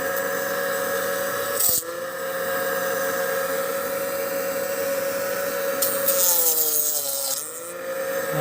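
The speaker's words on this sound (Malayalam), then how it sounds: "ഇനിയിപ്പോൾ നമ്മുടെ തെർമോക്കോളൊന്ന് കട്ട് ചെയ്ത് നോക്കാം" A homemade DIY table saw hums steadily throughout, with a short bump near two seconds and a wavering pitch change toward the end as thermocol is fed through the blade; no talking.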